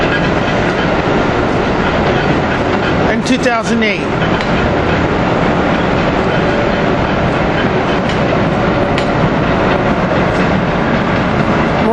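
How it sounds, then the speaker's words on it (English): Amtrak Acela train 2212 pulls out of 30th Street station, a loud continuous rumble of wheels and cars filling the whole stretch, with a brief squeal partway through and a voice speaking over it. "Here we have Acela train 2212 leaving with power cars"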